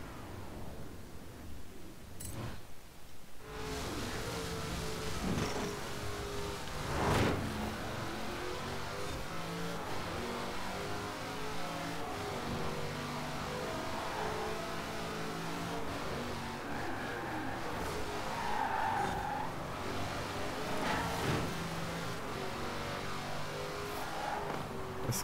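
A race car in Forza Horizon 4 revs and accelerates through a street marathon race, a steady fluttering engine note with gear-change bursts and occasional tire noise, moderately quiet and without voices.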